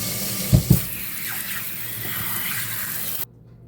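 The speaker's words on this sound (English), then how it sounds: "boil your lasagna noodles for about half the package directions and drain them in the sink" Water running into a kitchen sink as boiled lasagna noodles are drained, a steady moderate rush with two brief thumps early on, cutting off abruptly near the end.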